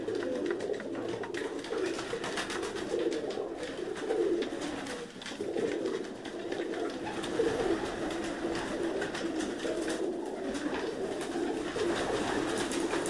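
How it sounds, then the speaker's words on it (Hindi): Black-faced pigeons of a well-known breed coo steadily close by, a low continuous murmur held in a man's hands, with background noise throughout. "हाजी साहब के हाथ में एक बड़ी मशहूर ब्रीड काले मुंह वाले जो कबूतर थे वो मैं आपको दिखा रहा हूँ"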